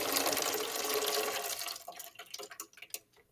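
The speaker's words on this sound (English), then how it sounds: "Water for the second mark. I poured in 200 milliliters" Water poured into a measuring jug for a spring scale experiment, a continuous splashing pour that thins into intermittent trickles and drips before stopping.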